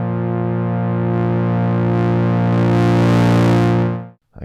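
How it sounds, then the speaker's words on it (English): Rob Papen BIT synth lead with distortion on the amp section, a loud sustained buzzy, gritty tone holding one pitch for about four seconds before cutting off abruptly. "We also have distortion on the amp section of this."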